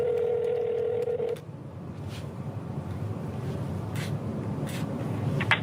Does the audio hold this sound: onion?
no